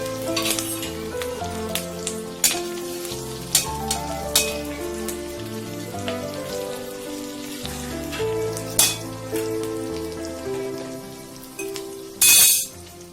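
Garlic, ginger, cumin and green chilli fry in hot oil with a continuous soft sizzle and occasional pops, over quiet background music, ending in a brief louder burst near the close.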